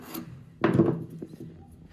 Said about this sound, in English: I'm going to go ahead and scribe out the outline of the handle